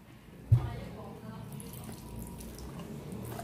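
Water poured into a puto cheese batter of butter or margarine, a steady close trickle and splash running after a brief soft thud, with faint kitchen background throughout.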